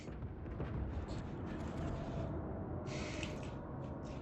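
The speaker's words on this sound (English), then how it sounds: "Boom, boom. Like I said, these torpedoes pack a wallop." Torpedo hits explode on a warship in the naval battle game World of Warships: loud, heavy booming blasts with rolling, rumbling tails that run together into a dense, sustained roar.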